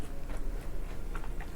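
Crisp crunching of wasabi-flavored chips being bitten and chewed, several quick crunches close to the ear with no talking.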